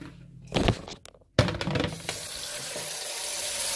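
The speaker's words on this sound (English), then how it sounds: "fill the bowl up with water" Tap water running into a bowl in a home kitchen while bell peppers are prepared: a couple of splashy bursts, then a steady close stream of water filling the bowl, with no talking.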